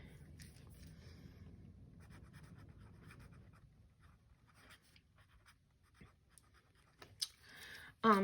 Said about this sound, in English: So let me go ahead and write meeting.